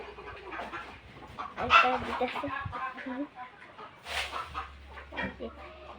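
Village chickens in rural Assam cluck steadily while feeding, with a few louder, sharper clucks standing out from the flock. People talk nearby over the birds.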